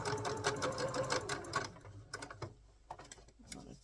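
A sewing machine stitches a fabric pocket for a crossbody bag, running in a steady rapid burst that stops partway, followed by a few quieter mechanical clicks and handling sounds.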